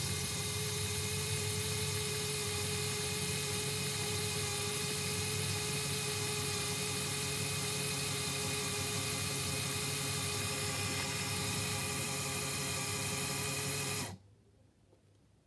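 A LEGO motor whirs steadily inside a LEGO puzzle box with a hidden drawer, a constant high mechanical buzz that runs loud and unbroken for about fourteen seconds before cutting off abruptly into quiet.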